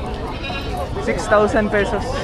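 A goat bleats in short wavering cries while a person speaks nearby at a livestock market.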